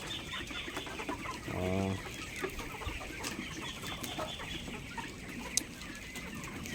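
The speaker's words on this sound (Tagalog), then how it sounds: "First time ko po mag-alaga ng ganitong klase ng mga manok." Chickens cluck and murmur close by, with one louder drawn-out call rising above scattered farmyard noise.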